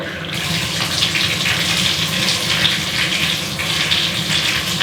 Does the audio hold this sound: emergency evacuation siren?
no